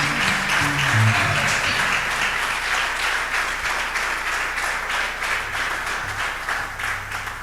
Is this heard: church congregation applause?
yes